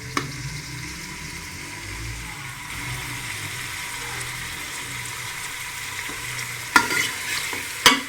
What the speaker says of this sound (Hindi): ये मैं भून के बना रही हूँ।